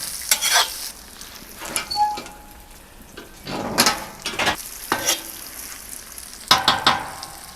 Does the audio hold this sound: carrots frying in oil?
yes